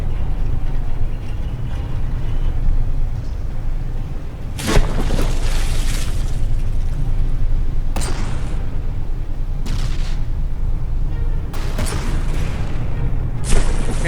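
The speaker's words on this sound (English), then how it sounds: "you can see those shells are landing and they're not really doing much to the Stone Age" Naval shells from a battleship fight in From The Depths burst in several sharp booms, spaced a few seconds apart over a constant low mechanical rumble, loud and close.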